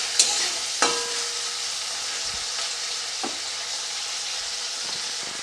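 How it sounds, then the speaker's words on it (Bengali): Chopped large onion frying in a pan for Bata fish curry, a loud continuous hissing sizzle with a few sharp spoon clinks and occasional stirring scrapes. "একটা বড় সাইজের পেঁয়াজ কুচিয়ে রেখেছিলাম, সেটা দিয়ে আমি কিছুক্ষণ নাড়তে থাকবো।"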